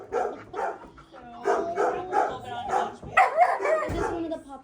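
Several dogs at an animal shelter bark and yip in a rhythmic run of sharp, fairly close barks, with people talking over them.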